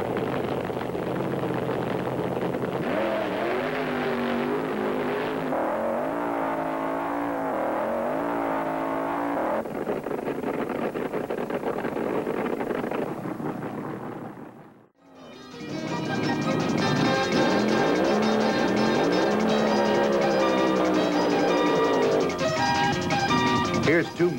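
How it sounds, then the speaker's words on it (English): Vintage 1970s drag racing cars, including a Dodge Charger, roar loudly down the strip with a sustained, rising engine blare. It cuts to silence briefly, then another loud burst of race engines follows. "Al Segrini in the Black Magic prepares for the next run"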